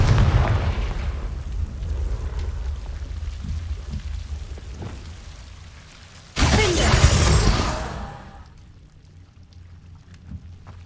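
A Confringo fire-blasting spell explodes in Hogwarts Legacy, a sudden loud burst of roaring noise lasting about two seconds over steady rumbling ambience, then fading to quiet.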